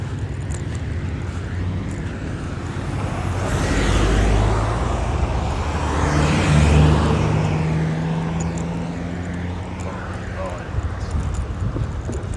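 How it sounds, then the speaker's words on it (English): Steady road traffic heard while walking beside a busy road on a hot day, with a continuous broad rush of passing cars swelling louder around the middle and fading again, near and fairly loud. "I'm walking in traffic."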